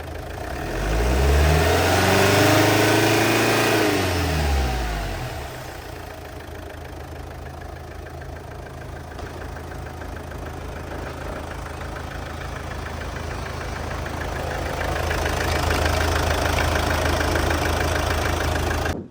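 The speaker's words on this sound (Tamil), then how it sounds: "கோபி ஆக்சிலேட்டர் கொடுங்க" A 2011 Chevrolet Cruze LTZ diesel engine revs up loudly, then settles into a steady, slightly rattly idle before climbing gently again near the end, heard up close and alone.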